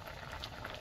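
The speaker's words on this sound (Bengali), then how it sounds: "ঝোল ফুটে গেছে" Curry bubbling in a pot over a village cooking fire, a steady close simmering hiss with soft popping bursts, no voices.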